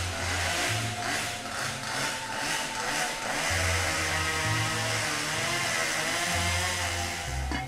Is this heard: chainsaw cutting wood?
yes